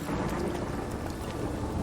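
Stormy weather in The Witcher 3, with a steady wash of heavy rain and low rumbling thunder filling the scene at constant loudness, no voices.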